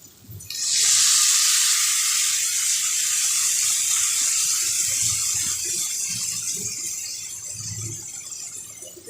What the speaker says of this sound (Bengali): একটু জল দিয়ে দিব, কেননা মশলাটা ভালো ভাজতে হবে